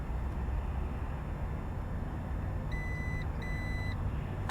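A 2022 Jeep Wagoneer Series 3 power tailgate button gives two short, high electronic beeps in quick succession late in the clip, faint over a steady outdoor hum.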